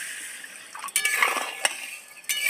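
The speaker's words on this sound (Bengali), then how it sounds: "চিনি দিয়ে দিচ্ছি, পরিমাণ মতন জল দিয়ে দেব" Water poured onto sugar in a pan to start syrup for boondi, a brief splashing pour with a few light clinks of utensils, fairly close and moderately quiet.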